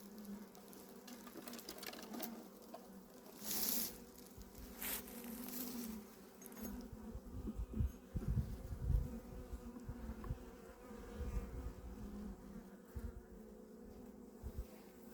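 Honey bees swarm around an open hive, a dense, steady buzzing drone at close range, swelling with louder passes near the microphone and a few soft knocks from handling the hive.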